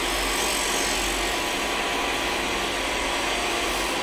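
A wood lathe turns a bead on a wooden snowman, giving a continuous, loud, broadband whir and rushing cutting noise with no breaks and no voices.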